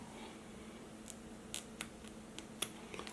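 Braid scissors, no longer very sharp, snip the tag ends off braided fishing line while a spinning setup is spooled; a few faint, sharp clicks come at irregular intervals over a quiet background.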